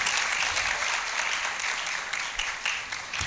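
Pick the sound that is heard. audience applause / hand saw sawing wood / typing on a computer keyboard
audience applause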